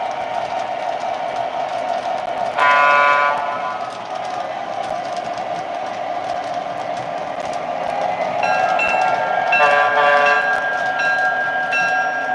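An O scale model train with an EMD diesel locomotive sound system gives off a sustained whirling engine drone with tonal bursts layered on top, loud and continuous throughout.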